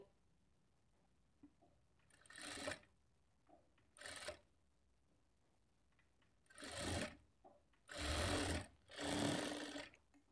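Sewing machine stitching a blouse lining, with several short whirring bursts of varying length separated by pauses, fairly quiet and close, with faint handling sounds between runs.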